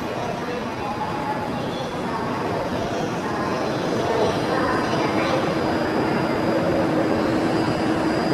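A train bound for Nagoya pulling into a station at Kanazawa, a steady broad rumble and rolling noise throughout, with an announcer's voice over it.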